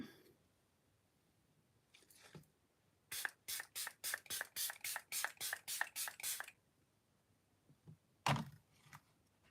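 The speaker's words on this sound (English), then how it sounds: "MCore Beauty Miracle Flawless setting spray" About a dozen quick, evenly spaced bursts of setting spray hiss in a rapid rhythm, close by, with faint handling noises before and after.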